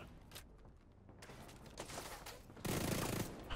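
SMG gunfire in The Division 2, with bursts of rapid automatic shots that grow to a loud sustained stream near the end, close and dominant, with no talking.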